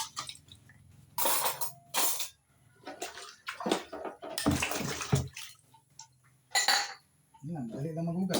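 Dishes washed by hand under running water, bursts of splashing and rushing flow alternating with clinks of cutlery and plates, close by, with a voice speaking now and then.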